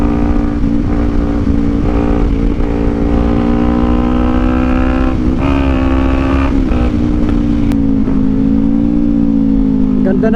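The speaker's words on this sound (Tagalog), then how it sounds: "Ganda ng engine brake niya, smooth na smooth, man." A Kawasaki Ninja 400 engine-brakes while being ridden, a loud, close, continuous engine drone whose pitch holds and dips slightly as it slows, with wind rumble throughout.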